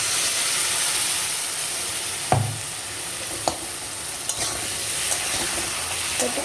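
Fish fries in a paste of cumin, coriander, ginger and tomato with salt and turmeric, giving a loud, steady sizzle and hiss. A few sharp clinks of stirring break through the frying, and no one speaks.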